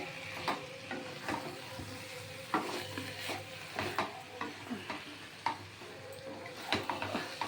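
A spoon stirs murighanta, fish head curry cooked with rice, in a pan, giving a soft sizzle broken by irregular scraping knocks and clinks against the metal.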